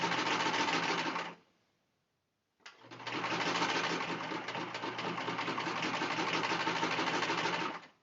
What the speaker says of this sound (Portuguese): E vai passando a costura.